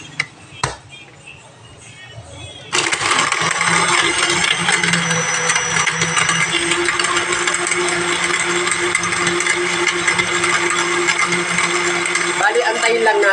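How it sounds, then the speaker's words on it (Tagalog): A kitchen blender whirs loudly and steadily after a few clicks, mixing lemon juice, a glass of water and Snow Bear menthol candy for a cough and cold remedy, running continuously for about ten seconds before stopping. "Takpan natin, saka natin i-blender guys."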